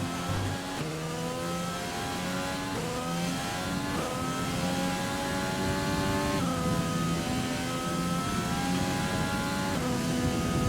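A Volkswagen Formula 1 car engine in a racing game, whining steadily and cycling up and down through gear changes for the whole stretch, loud and close with no talk over it.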